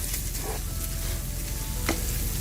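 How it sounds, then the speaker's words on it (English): Beef biriyani with chopped mint being stirred in a hot pot, a dense continuous sizzle with a couple of soft scraping strokes from the spoon, close and steady. "We will also add the chopped mint and give everything a good stir."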